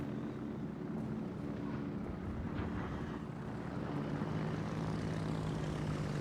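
Carrier aircraft in the World of Warships naval video game, a steady propeller-engine drone that holds at moderate level throughout, with no talk over it.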